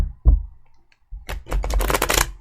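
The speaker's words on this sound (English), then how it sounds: "One more shuffle." Tarot cards shuffled close by in a short riffle of soft papery flutters and light slaps, alone without talk.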